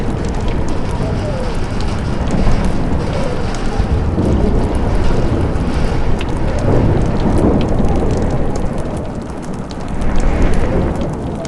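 Thunderstorm in the Life Is Strange video game, with steady heavy rain and deep rolling thunder filling the scene at constant loudness, one swell of thunder rising near the end.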